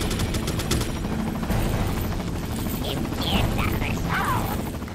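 Gunfire in the Resident Evil 4 video game, dense and continuous across the clip, with bursts of shots under game noise and a few chirpy tonal effects near the end.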